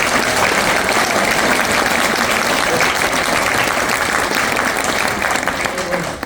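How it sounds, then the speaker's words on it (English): Sustained applause from an audience at a neuroscience conference, steady dense clapping filling the room for several seconds without pause. "I'd like a round of applause"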